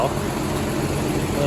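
A WW2 Humber staff car with a rebuilt engine idles on a cold day, a steady, smooth low hum of the motor heard close with no change in pace.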